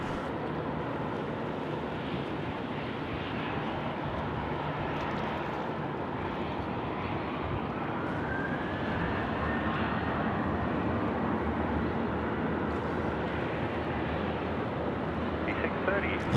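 LC 808 airliner departs Sydney Airport bound for Melbourne, seen close up: a loud, steady jet roar holds throughout, and a rising engine whine builds partway through as the aircraft rolls, with a voice talking over it.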